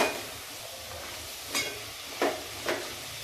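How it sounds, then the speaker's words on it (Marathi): Chopped coriander being stirred into frying pea pulao, a low steady sizzle with three short scraping sweeps of a spoon through the pan, close and quiet, with no voices. "बारीक चिरलेली कोथिंबीर टाकते ती पण चांगली मिक्स करून घेते"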